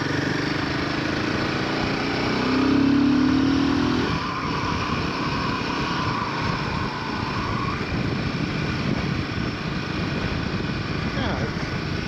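A Royal Enfield Himalayan 450 motorcycle engine revs on the road, a steady drone that swells briefly, then settles into a continuous hum with wind noise.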